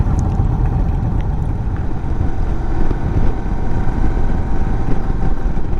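An Indian Sport Chief cruiser motorcycle is being ridden, its steady engine rumble and wind roar loud and continuous throughout with no talking.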